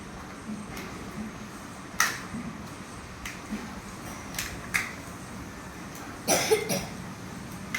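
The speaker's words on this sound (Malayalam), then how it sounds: "ചുമണ്ട് ഗൈസ്, ഒരിക്കലും മാറാറില്ല." Several short, dry coughs in a quiet indoor room during a Kinder Joy unboxing: isolated bursts early on, then a tighter cluster of two or three near the end, fairly faint against low background hiss.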